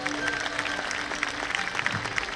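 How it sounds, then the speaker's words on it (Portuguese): Church congregation at an evening faith-and-miracles crusade in Itapetinga, Bahia, clapping in a steady, dense patter that fills the room at moderate level, with scattered crowd noise mixed in. "Dê um forte aplauso a Jesus"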